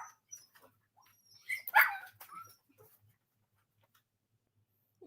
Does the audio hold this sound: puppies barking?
yes